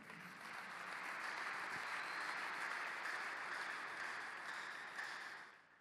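A church congregation applauding during a service, a dense, even wash of clapping that swells in, holds steady for several seconds and fades out at the end, moderately distant.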